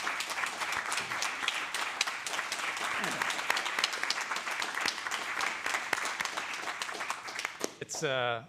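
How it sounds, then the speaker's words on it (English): Audience applause at a council meeting: dense, sustained clapping from many people filling the room for about eight seconds, fairly near and even, with a voice briefly heard at the very end. "I think we owe Kathy a round of applause."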